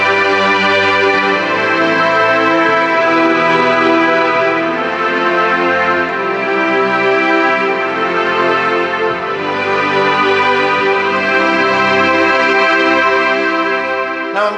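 Kawai CA701 digital piano set to a string voice, playing smooth, sustained ensemble chords that swell and shift continuously, full and steady without pauses or voices.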